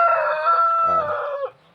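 A Thai fighting rooster, a contest-proven bird on a farm, lets out a single loud, close crow that holds strong and then trails off near the end.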